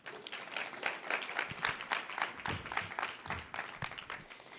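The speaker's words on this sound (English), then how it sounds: "So a round of applause for all of you that made it." Applause rings out for startup pitch finalists at a student ventures demo event, a steady, dense clapping from a roomful of people that holds evenly for several seconds.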